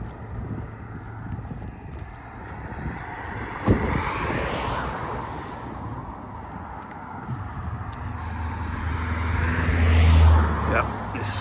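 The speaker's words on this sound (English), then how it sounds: "Yep, there's some traffic coming down." Road traffic passes along a narrow country lane with no pavement in the Peak District between Monsal Dale and Monsal Head, a broad rumbling wash that swells as vehicles approach, loudest near the end.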